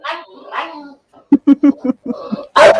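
A dog barks in a short run of sharp, rhythmic yaps close by, with people talking before and after during a live England v Germany football watchalong.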